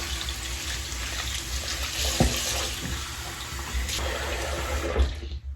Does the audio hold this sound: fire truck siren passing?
no